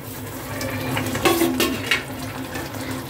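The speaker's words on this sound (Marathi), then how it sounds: "आता यामध्ये आपण रवा घालून घेऊया" Semolina is poured into boiling water for upma and stirred in a pot, giving a soft bubbling simmer with scraping spoon strokes and a few clinks against the metal, close by and without talk.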